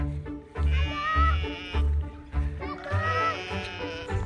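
A flock of sheep bleats repeatedly, with several loud, close, wavering calls overlapping one another in a field.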